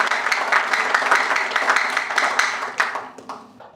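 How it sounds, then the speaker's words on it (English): An audience at a business networking chapter anniversary meeting bursts into sustained applause, many hands clapping densely and fairly loudly, then tapering off near the end. "May I request everyone to give a thunderous applause to all of them."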